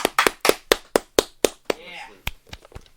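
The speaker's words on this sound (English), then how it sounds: "Let's give a round of applause for Mr." Hands clap loudly and close by for a podcast guest, a quick, even run of sharp claps with a short gap partway through, followed by a few more scattered claps.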